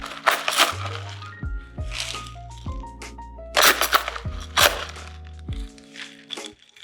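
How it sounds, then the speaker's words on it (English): Small pebble ice is dumped into a cocktail glass for a tiki drink, giving several bursts of crunchy clattering and rattling up close, with background music underneath. "Add in our pebble ice."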